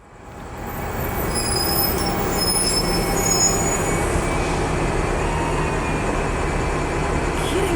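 A train rolls past a railroad crossing at night, a loud continuous rumble of wheels with thin high squeals over it, building up in the first second and then holding steady and close.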